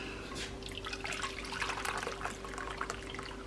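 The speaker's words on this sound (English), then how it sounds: "And now I'm going to pour, I boiled some water" Boiled water pours over pumpkin pecan cobbler in a crockpot, a soft continuous trickle and splash with faint dripping, steady and fairly quiet over a low background hum.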